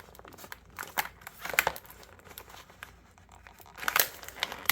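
Plastic packaging around a knife belt sheath is crinkled and torn open by hand, with bursts of close crackling and tearing at uneven intervals.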